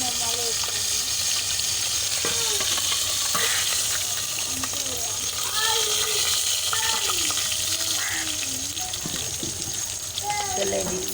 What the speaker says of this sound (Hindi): अब हम मसाला भूनने लगे हैं